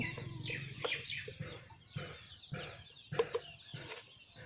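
Sick chicks and hens cluck and peep close by in short, repeated bursts while being given medicine, with a steady background of soft farmyard noise.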